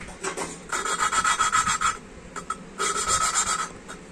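Rhythmic scraping and rubbing of an engine valve being lapped against its seat, gritty back-and-forth strokes in bursts with a brief pause between them, close and moderately loud, no talking.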